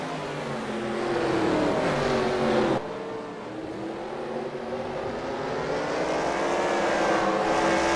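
Race car engines roaring together at the green-flag start of an Indianapolis Motor Speedway all-star race in a video game, a dense, continuous loud drone with rising and shifting engine pitches and no speech.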